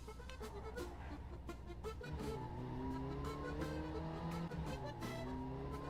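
Car driving in Second Life, a steady engine drone rising in pitch through shifts with faint tire noise and rhythmic clicks, heard close with no talk.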